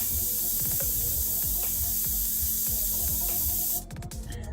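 An airbrush sprays black paint in a steady close hiss with faint mechanical clicks underneath, then the sound shifts abruptly near the end into a rougher, broken spurt.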